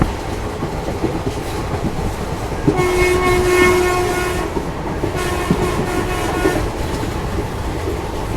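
The Ranchi–Godda Intercity Express passenger train's horn blares in two long, loud honks over the steady rumble and clatter of rolling wheels on the Jasidih–Godda line, with no talking.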